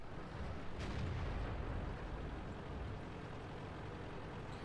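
Tank cannon fire from a T-29 heavy tank in World of Tanks, a single deep booming shot near the start followed by a rumbling, dense battle-noise wash that stays loud throughout.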